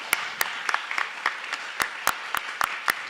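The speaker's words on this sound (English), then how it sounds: "So please let's give a big round of applause." Sparse, scattered handclaps from a small audience at the Halifax Forum, about a dozen sharp claps spread unevenly over a few seconds.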